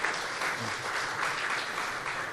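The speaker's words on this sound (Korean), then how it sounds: "박수 부탁드립니다" An audience at a space weather conference applauds after the keynote speech, with an even, continuous wash of clapping from many hands throughout the short stretch.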